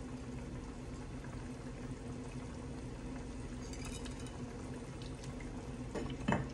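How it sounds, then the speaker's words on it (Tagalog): Misua soup with sardines, egg, miso and patola boils in a pot, giving a steady, close bubbling hiss with a few soft clinks near the end. "Ito kumukulo na siya"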